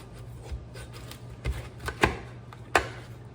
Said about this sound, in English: cut it in half again.